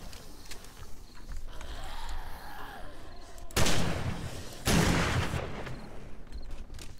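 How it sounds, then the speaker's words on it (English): In the 7 Days to Die survival game, two loud shotgun blasts go off a second apart at close range over a steady low ambient rumble. "Ooh, two shotgun rounds and he died."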